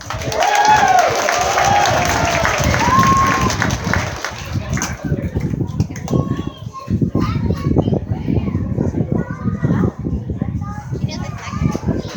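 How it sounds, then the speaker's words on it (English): Zoo audience at an Oklahoma City elephant show applauds and cheers for Chandra the elephant, a loud crowd roar with children's voices that continues under voices from about the fifth second. "give Chandra a round of applause"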